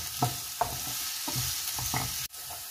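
Sliced onions with salt sauté in a pan for a Spanish omelette, a constant close sizzle broken by rhythmic scraping strokes of a spatula and a brief clatter near the end.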